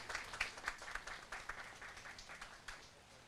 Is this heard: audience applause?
yes